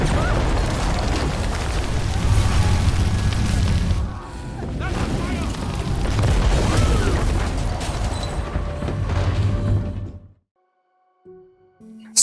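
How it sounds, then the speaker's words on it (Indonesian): Bomb attack explosions in a World War II film set in German-occupied Norway: loud, dense rumbling blasts and debris roar for about ten seconds, easing once briefly, then cutting off to near silence. "tiba-tiba terjadi serangan bom"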